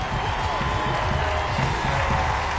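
A home stadium crowd roars steadily after a US women's national team goal against South Korea, a dense, continuous cheer with talk mixed in.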